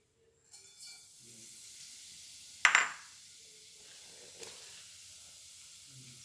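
Vermicelli goes into hot ghee with a sudden sharp sizzling hiss that fades into a low, quiet crackle, with a smaller hiss a moment later, close by and with no talking.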